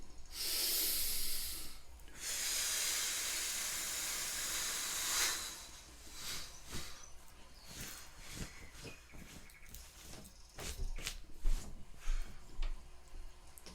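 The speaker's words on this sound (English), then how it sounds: "Go ahead and breathe out." A long, deep exhale empties the lungs in a breathy hiss close to the microphone, lasting several seconds, followed by quieter, irregular breath and rustling sounds.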